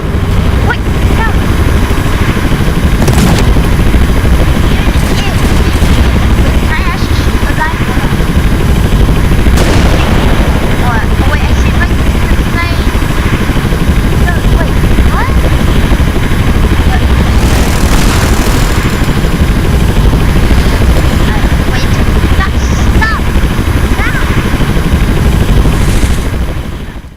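Helicopter rotor drone and blasts in the video game Teardown, a loud continuous mechanical roar with bursts of gunfire and explosions throughout, voices talking over it.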